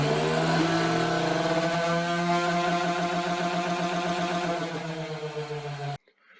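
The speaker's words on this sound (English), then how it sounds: "Now I'm going to power on the device so that we can watch as the motors power the wheels" A tennis ball launcher's electric motors spin up its wheels outdoors, a steady whirring drone with rising harmonic tones that hold for several seconds before the power cuts off abruptly.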